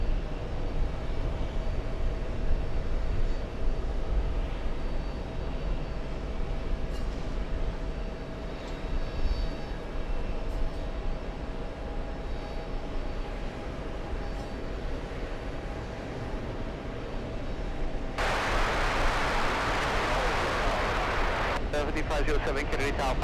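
An American Airlines jet departs JFK bound for Heathrow, a broad continuous roar and rumble that holds steady throughout, with voices talking over it.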